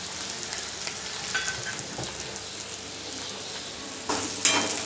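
Ingredients for tondli bhaji fry in oil with a steady, moderately quiet sizzle and soft stirring, swelling into a brighter, louder crackle near the end.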